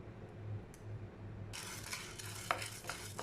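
Chana dal (Bengal gram) dry-roasting in a pan while stirred, with soft scraping and rattling that turns into a brighter, louder clatter of stirring halfway through, fairly close.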